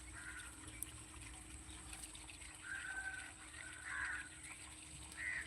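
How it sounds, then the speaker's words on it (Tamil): Crows calling from inside a tree on a farm with oleander plants, a few short caws rising at intervals over steady low outdoor background noise, moderately distant. "காக்கா, செங்காக்கா அதுக்குள்ளே மரத்துக்குள்ளே உட்காந்துருக்கு."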